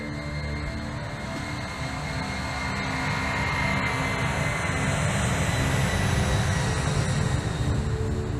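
An Air Canada airliner takes off and climbs, its jet engines giving a steady, loud broadband roar with a deep rumble that builds slightly and holds throughout, with no voices.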